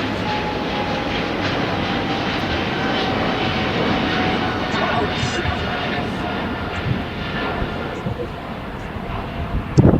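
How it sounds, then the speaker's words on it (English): A China Southern Cargo Boeing 777 freighter departs LAX, its engines producing a steady, loud broadband roar that holds for the whole stretch, with a faint tonal whine running through it. "We have China Southern Cargo departing to CAN Guangzhou on a Boeing 777 freighter."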